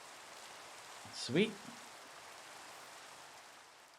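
Steady, faint hiss of rain falling in Minecraft with the All the Mods 6 modpack continues throughout, briefly interrupted by a single short spoken word near the start.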